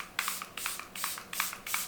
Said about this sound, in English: So this is the Charlotte Tilbury Airbrush Flawless Setting Spray.